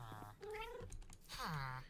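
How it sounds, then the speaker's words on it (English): Cats meow repeatedly in a blocky survival video game, with a sliding meow early, a short middle call, and a longer falling meow at the end, all quiet and set against low background sound. "And more kitties"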